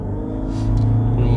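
A fourth-generation Toyota Prius hybrid with an ECVT pulls away smoothly from a standstill in power mode on a cold day, a steady low drone that swells slightly as it gathers speed, with no shift jolts.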